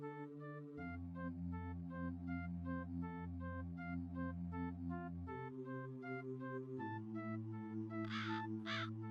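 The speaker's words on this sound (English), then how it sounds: "Ah, bird." A crow caws over sustained, droning tones, and a few harsher wavering calls stand out near the end.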